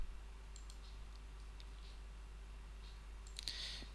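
A computer mouse clicks a few times, small and faint, over a steady low electrical hum in a quiet room.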